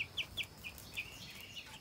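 Chickens cluck softly in a string of short, quick calls, faint and somewhat distant, with no one talking.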